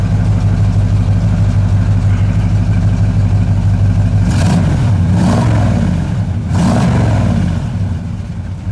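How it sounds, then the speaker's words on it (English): A big-block 1972 Monte Carlo engine idles loudly, then revs up twice in quick surges through a 3-inch exhaust before settling back to a deep idle. "Here's that 3-inch exhaust, guys, and that sounds awesome."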